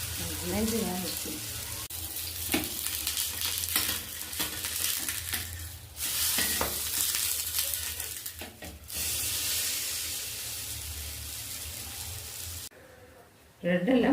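Slices of bread frying on a hot dosa griddle, a steady sizzle and hiss with brief scraping sounds, and talk over it; the frying cuts off abruptly near the end.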